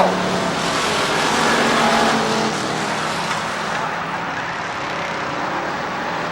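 Race cars roaring around the oval at Rockford Speedway during a 1994 race, a dense, loud engine roar that swells and fades slightly as the field passes, with no voices heard over it.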